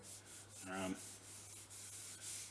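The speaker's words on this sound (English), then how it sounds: "I just DA sanded that." Dual-action sander working over a Jaguar car body panel, a soft steady rubbing hiss under a low constant hum, with a brief brighter scraping burst partway through; fairly faint and close.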